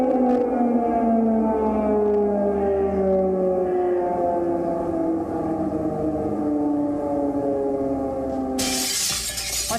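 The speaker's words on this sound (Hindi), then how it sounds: "तो ये एयर सायरन जो हैं वो वहां पर लगातार बजाए जा रहे हैं।" Wartime air raid siren in a Ukrainian city wails as a loud, sustained tone that slides slowly downward over several seconds, ending with a sharp burst of noise.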